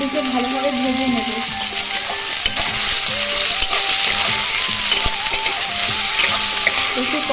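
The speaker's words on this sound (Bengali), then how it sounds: "গ্যাসের ফ্লেমটাকে লোতে রেখে মাছগুলিকে ভালোভাবে ভেজে নেব।" Prawns fry in oil in a pan over a low gas flame for a Bengali tangy prawn dish, giving a steady, dense sizzle that continues without a break, with faint clinks and tonal kitchen sounds running beneath.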